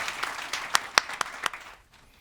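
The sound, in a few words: audience applause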